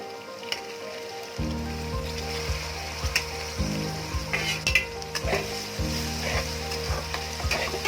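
Tomatoes tossed into browned onions in a hot pan for a matar mushroom curry, a steady close sizzle with scraping spoon strokes and faint rhythmic clicking running underneath.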